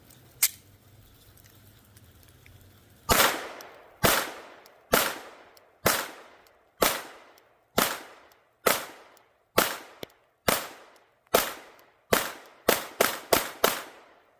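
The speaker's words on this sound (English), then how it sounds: "I'm going to put a few rounds through this thing for the first time" A Glock 19 pistol fitted with a Radian Ramjet compensator fires about fourteen sharp, loud, close shots after a quiet start, spaced roughly a second apart and then quickening into a rapid string at the end.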